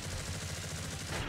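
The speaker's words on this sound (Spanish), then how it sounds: "Disparo en ráfaga." Rapid burst gunfire in the video game Digimon World Next Order, a dense, continuous rattle of shots at steady loudness for about a second, with no talk over it.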